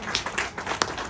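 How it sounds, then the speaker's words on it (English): An audience at a school meeting about children's transition claps briefly, a short burst of scattered, uneven applause with no voices. "Can you give yourself a clap?"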